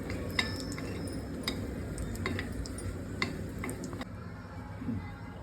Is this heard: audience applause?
no